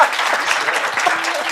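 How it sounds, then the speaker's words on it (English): An audience at a gathering of Oregon Democratic leaders gives a quick round of applause for a speaker being introduced, a brief, full burst of clapping with some cheering voices mixed in. "You can clap for her"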